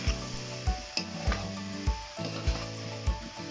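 A spatula stirs taro with tengra fish and garlic paste in a frying pan, making a steady rhythm of scraping strokes about every half second over a soft sizzle.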